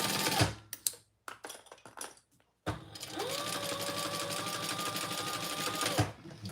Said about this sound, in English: let's sew the seam allowance